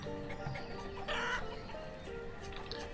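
Chickens cluck in the village-building video game Banished, a soft, steady scatter of short clucks from a flock of hens mixed into the game's ambient sound.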